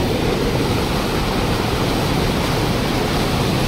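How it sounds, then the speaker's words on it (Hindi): Malleni river water rushing hard through a row of dam gates, a loud, steady, dense roar of pouring water that fills the whole scene without break. "इतना जोर से पानी जा रहा है यहाँ पर देख पा रहा हूँ"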